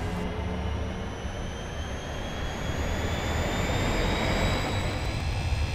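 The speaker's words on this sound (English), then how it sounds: "Parking brake off and throttles up." Boeing 737 Classic jet engines in the Aerofly FS4 flight simulator, throttled up for takeoff: a loud, steady roar whose whine climbs in pitch as the engines spool up, with no talk over it.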